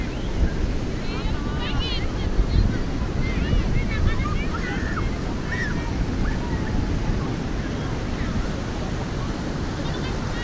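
Ocean surf at Pantai Ambal beach rolls in as a steady, loud, broadband wash of breaking waves, continuous throughout with wind buffeting the microphone and faint voices in the background.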